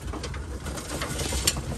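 Racing pigeons coo softly while eating, a low continuous murmur of several birds close by, with light pecking and rustling throughout.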